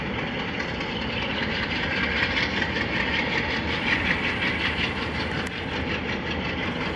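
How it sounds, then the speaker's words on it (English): Alco diesel locomotives run loud and close at a heritage railway, a steady heavy engine roar layered with rumbling wheel noise and rattling railcars, continuous throughout. "those are definitely Alco locomotives"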